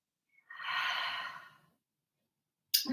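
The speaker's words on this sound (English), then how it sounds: "loud inhale in, huge exhale out." One loud yoga breath, a long forceful hiss of air lasting about a second, then silence before a sudden burst of sharper breath noise at the end, close and alone.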